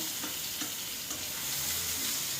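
Raw banana pieces fry in oil, producing a dense, continuous sizzle that stays loud and even throughout, with a few faint clicks beneath and no talk.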